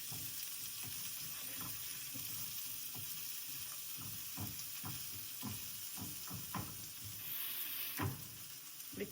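Food sizzles in a hot pan in a home kitchen, a steady crackling hiss with scattered pops and stirring clicks, close and fairly quiet, with no talking.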